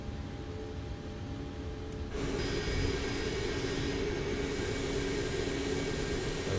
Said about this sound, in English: We're spooling up that APU.